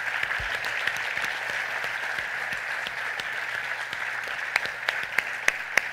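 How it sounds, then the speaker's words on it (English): A large audience at a breakfast event claps steadily and warmly, a dense wash of applause with a few sharper individual claps standing out near the end. "let's give it another round of applause for all of our heroes"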